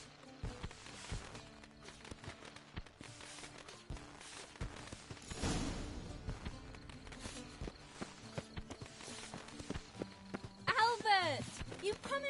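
Horse hooves clip-clopping in The Witcher 3, irregular footfalls mixed with game music and ambience, plus a brief horse whinny near the end.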